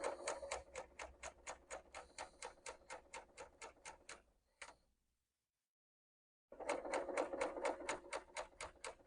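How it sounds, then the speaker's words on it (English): A BERNINA L890 serger stitching and trimming quilt binding edges, rapid rhythmic mechanical chattering in steady bursts that stops for about two seconds of silence, then resumes at the same quick pace, close and alone. "the serger is cutting off the edges on the left, so it's really nice clean finish"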